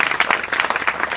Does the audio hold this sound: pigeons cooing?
no